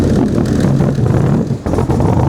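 A green 1965 Backdraft Cobra roadster drives close by with a loud, deep, rumbling engine, a strong burbling roar with a brief dip midway before surging again, heard alone without voices.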